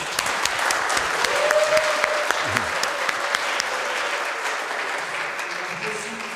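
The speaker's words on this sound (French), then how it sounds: "Je vous demande de l'applaudir." Sustained applause from a congregation at an Epiphany Mass, steady clapping filling the church with a few louder claps, while a faint tone and murmuring voices sit underneath.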